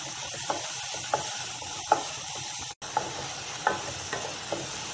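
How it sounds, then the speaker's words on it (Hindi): Ginger and onion fry in a pan with added salt, giving a constant sizzle while a spoon stirs and scrapes in about half a dozen distinct strokes, briefly cut out midway. "हल्का सा इसको भून लेंगे।"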